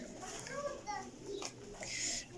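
Pigeons, black-tailed breeding pairs kept in a loft, coo softly in short repeated calls nearby, with a voice and other chatter mixed in.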